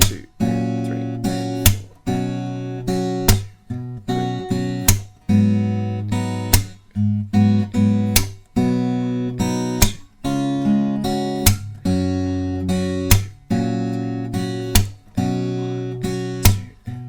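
Acoustic guitar strummed chords alternating with sharp percussive palm taps on the guitar body, played in a steady four-count rhythm, close and clear with no talking.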